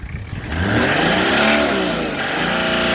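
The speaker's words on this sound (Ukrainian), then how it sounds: "А ну ще чуть погазуй." A cold Toyota car engine revs up loudly and holds at high revs, a steady close roar with shifting pitch after a brief quieter start.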